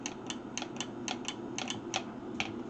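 A Hamilton Beach smoothie blender with a dead motor clicks instead of blending, giving a string of sharp, irregular light clicks over a low hum, close and fairly quiet.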